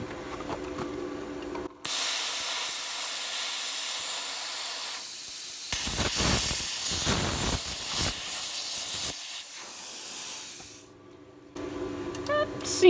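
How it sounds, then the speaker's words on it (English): A plasma cutter slices through the steel frame of a VW bus with a loud, steady, close hiss that holds for several seconds, breaks briefly into rougher crackling spurts, then stops and restarts. "I don't know how well this plasma cutter is going to do through those sections right there"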